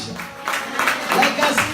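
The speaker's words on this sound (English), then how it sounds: "Give the Lord the biggest round of applause." Church congregation breaks into applause after a closing prayer, a dense wash of clapping mixed with cheering voices, moderately loud and sustained through the short moment.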